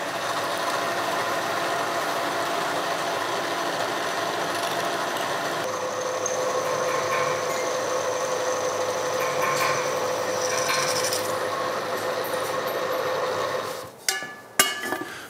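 Freehand drilling into an iron pan handle clamped in a vice, a steady whining drill drone holding for most of the stretch, then stopping, followed by a few sharp metallic knocks and clatters.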